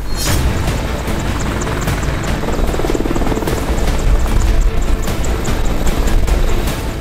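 An Apache attack helicopter in flight, its loud, steady rotor thump and turbine roar filling the air continuously, close and powerful with a rhythmic chopping pulse throughout.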